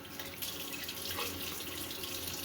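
Water runs steadily from a tap, a continuous splashing hiss at moderate level with no voices.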